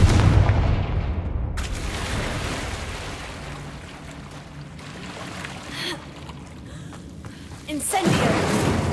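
Confringo explosive spell cast in Hogwarts Legacy, heard as a sharp blast and rumble early, then a sustained whooshing wash of effects and another loud burst near the end, with no speech.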